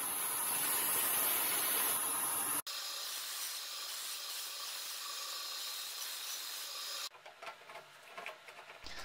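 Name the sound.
bandsaw rough cutting bamboo board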